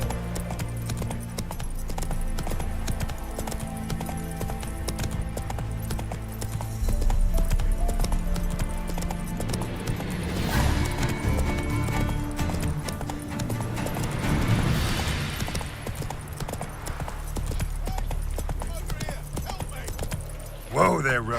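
Roach, a horse in The Witcher 3, clip-clops along in a steady hoof rhythm over game ambience, with a brief louder swell midway and a voice speaking at points.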